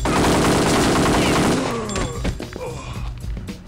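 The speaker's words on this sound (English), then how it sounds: "that new gun packs some serious firepower. Real hand cannon." A rapid burst of loud gunfire from a hand cannon in the shooter game Kingpin, dense shots for about two seconds, then scattered thuds and clatter as the noise settles.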